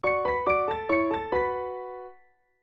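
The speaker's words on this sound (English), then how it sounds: "so maybe making a wish sounds something like this" A short synthesized chime jingle for Jirachi, the wish Pokémon, evoking the sound of making a wish: five quick bright bell-like notes ringing in a rising, sparkling pattern, then a final chord that sustains and fades out alone.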